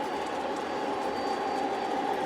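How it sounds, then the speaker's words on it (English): Model trains circling a roundhouse layout, a steady continuous rumble of rolling wheels and cars at moderate distance with no talk over it. "you can see those trains coming around the other side of the roundhouse also"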